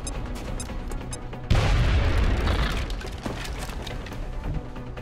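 A frag grenade detonates in the tactical game XCOM Enemy Within, a single loud boom that hits suddenly and rolls into a rumbling decay over several seconds amid ongoing game ambience.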